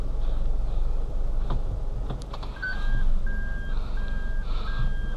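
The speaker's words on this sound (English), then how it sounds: "My car has a backup alarm." A steady electronic reversing beep repeats at an even pace over a low idling engine rumble, close and clear.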